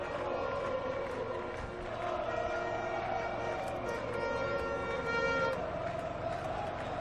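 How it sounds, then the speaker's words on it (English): A large crowd at a night MotoGP race in Qatar makes a continuous roar of cheering that holds steady, with a faint siren-like tonal whine running through it. "Listen to the crowd."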